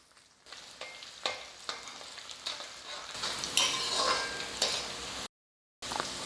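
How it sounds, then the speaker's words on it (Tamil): Crushed garlic fries in oil in a pan, the start of a Tamil-style prawn gravy, with a soft, steady sizzle, repeated stirring scrapes and a brief dropout near the end. "பூண்டு வந்து ரொம்ப செவந்துடக்கூடாது ஒரு அளவுக்கு பொறிஞ்சால் மட்டும் போதும்"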